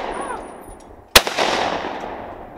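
A single sharp blast from a Beretta shotgun fired at clay targets on an outdoor clay shooting course rings out, followed by a short echoing decay across the range.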